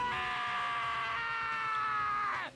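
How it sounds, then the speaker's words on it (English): A sustained, harmonic scream in the video game Danganronpa: Trigger Happy Havoc, loud and steady for over two seconds before bending downward and cutting off abruptly. "hey, I heard screaming"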